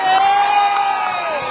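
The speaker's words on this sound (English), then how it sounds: "Let's give these seniors and their families a round of applause." A crowd at a high school basketball senior night cheers and whoops for the seniors and their families, a loud continuous roar with a sustained shout on top and a few claps scattered through it.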